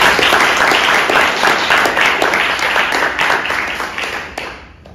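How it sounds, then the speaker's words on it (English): A room full of people applauding panelists at a Leiden event on new institutions; dense, fairly loud clapping that holds steady and then tapers off over the final second. "just give a round of applause for our panelists."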